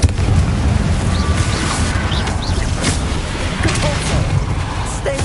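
Confringo fire spell blasting in a Harry Potter video game, heavy booming explosions with crackling debris that rumble continuously at high level, with faint birds in the background.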